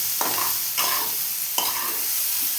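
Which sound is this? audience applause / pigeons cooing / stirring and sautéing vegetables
stirring and sautéing vegetables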